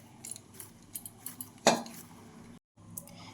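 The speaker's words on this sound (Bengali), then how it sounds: "এরপর এর থেকে একটা একটা লেচি আমি কেটে নেব" Knife or scraper striking a work surface while cutting dough into portions for egg rolls, one sharp close clack standing out among lighter clinks and kitchen handling noises, with a brief silent gap near the end.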